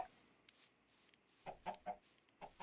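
Minecraft chicken clucking inside the video game, several short, faint clucks scattered over a few seconds against near silence.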